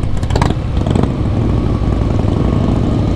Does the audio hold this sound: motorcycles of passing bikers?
yes